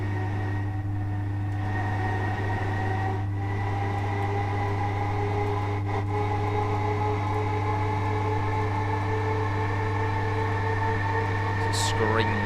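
Electric train motors whining in Train Simulator on the West Coast Main Line south, a sustained steady tonal whine layered over constant rumble and hum, with talk in the background.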